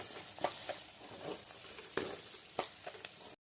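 Onions and green chillies fry in a hot pan, a steady sizzle broken by a few sharp stirring scrapes and clicks of the spoon, close and fairly quiet with no talk.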